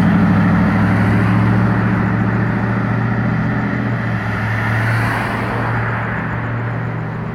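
A pickup truck left idling nearby, a steady low engine rumble that holds constant throughout with no talking over it.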